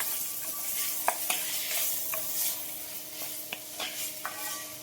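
Vegetables and peanuts crackle in oil as a spatula stirs them in a pan for a traditional Bhogi sabzi, with a soft steady sizzle and sharp, scattered clicks and scrapes, fairly quiet and close, no speech.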